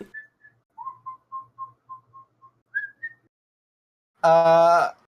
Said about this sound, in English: Does the whistling sound ominous or friendly?